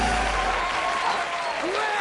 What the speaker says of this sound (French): Sur ce plan, les gens applaudissent vraiment.